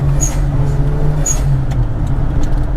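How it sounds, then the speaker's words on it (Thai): Turbo blow-off valve on a Mira pickup with a manual gearbox: two brief, whistling whooshes about a second apart ride over a loud, steady engine drone. "แหมเสียงโบออฟดัง ฟิวฟิวมันมันเล้าใจตรงนี้อะ"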